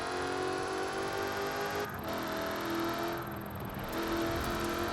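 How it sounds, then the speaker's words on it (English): Supercharged Lexus RC F in Forza Horizon 4, its engine holding a loud, steady drone with a high supercharger whine on top, briefly dipping and then rising again. "Sounds kind of like a supercharger."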